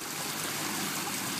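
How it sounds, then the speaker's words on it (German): A small mountain stream with a little waterfall in the Eifel, heard as a steady, close, broadband rush of flowing and splashing water with no other sounds. "ein schöner, kleiner, ich nenne das jetzt mal Gebirgsbach"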